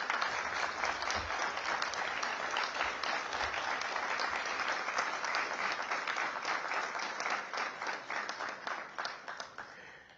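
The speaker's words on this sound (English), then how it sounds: "you all applauded because I said the single largest" Audience applause at the inauguration of an executive centre, a sustained crowd of clapping hands with individual claps audible, thinning and fading out toward the end.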